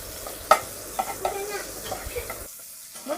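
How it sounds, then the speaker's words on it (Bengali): Chopped onions sizzle in hot oil in a home kitchen while a spoon stirs and scrapes the pan, with soft bursts of frying and a few knocks against the pan before a brief drop to near silence. "তারপর আমি দিয়ে দেব পরিমাণ মতো পেঁয়াজ কুচি দিয়ে ভালোভাবে নেড়ে চেড়ে লাল লাল করে ভেজে নেব।"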